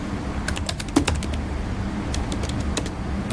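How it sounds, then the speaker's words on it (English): Steady typing on a computer keyboard while entering topics into a blank spreadsheet cell, with quick clustered keystrokes of moderate loudness, close up, and no voices. "double click, and I'll just go ahead and type"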